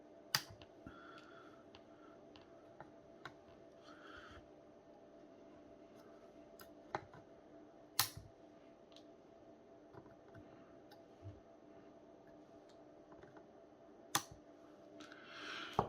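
Nail cutters clipping the legs of components during a TV repair, several sharp isolated snips spaced seconds apart over a faint quiet background.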